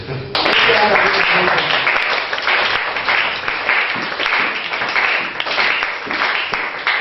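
Sustained applause and clapping from a congregation during a church service, a dense, steady crackle of many hands that starts abruptly and carries on for several seconds, loud and close, with faint voices mixed in.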